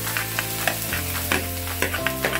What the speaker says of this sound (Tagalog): Ilalagay na natin ang ating bawang.